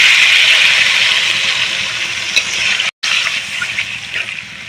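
Water pours steadily into a pan of sautéed potato and hilsa fish curry, a loud continuous splashing gush with one brief cut midway.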